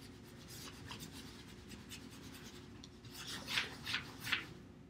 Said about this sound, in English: just use the side of your crayon so you're not getting too dark of spots on there